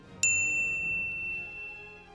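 A single bright notification-bell ding rings out clearly and then fades slowly over a faint low background.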